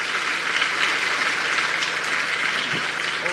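Applause from an award ceremony audience: a dense, steady patter of many hands clapping, moderately loud and continuous throughout, with no talking over it.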